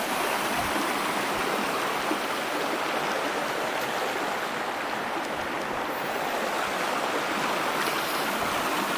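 A river rushes past the substantial stone remains of an old weir in Lainshaw Woods, a loud, steady broadband roar of flowing water lasting nine seconds with no talking.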